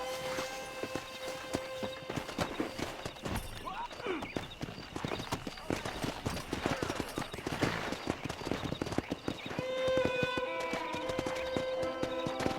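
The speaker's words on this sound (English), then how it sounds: "Let's see if we can't wrangle some horses." Hooves clip-clop steadily at a brisk pace, with horses snorting and an occasional whinny, over a busy game soundscape and background music in Red Dead Redemption.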